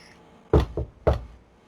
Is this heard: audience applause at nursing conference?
no